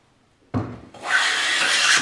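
A restored Stanley No 6 fore plane is pushed across wood, giving a short scrape and then a smooth, continuous rasping hiss as it lifts a shaving, close and clear.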